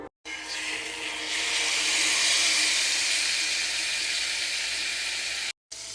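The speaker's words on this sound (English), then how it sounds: "I'm going to sear this one in my skillet with some butter." Thick chicken breast searing on high heat in butter in a skillet gives a loud, sustained close sizzle that starts abruptly and cuts off near the end.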